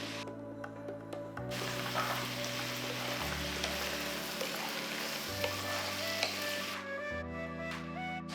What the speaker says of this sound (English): Cook it till the tomatoes are nice and mushy.